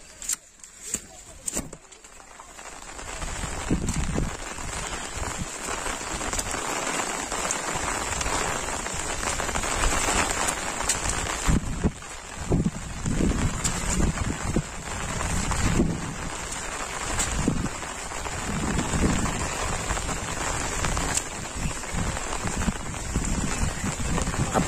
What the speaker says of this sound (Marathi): जोरात पाऊस चालू आहे, मुसळधार